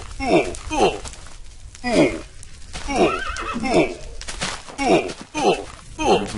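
A horse in the Minecraft Mo' Creatures mod whinnies and neighs repeatedly in short bursts, loud and close, over faint background game ambience.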